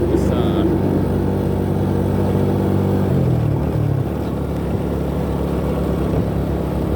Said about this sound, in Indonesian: Wow, truk box yang sangat besar.